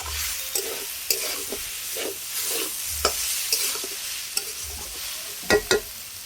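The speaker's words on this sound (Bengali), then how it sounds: "এবার এই সমস্ত উপকরণগুলো খুব ভালো করে নেড়ে চেড়ে আমি কষিয়ে নেব।" Grated potato and semolina being stirred and fried in a pan, with a steady soft sizzle under repeated scraping strokes of a spoon, close and fairly loud, a pair of sharper knocks near the end.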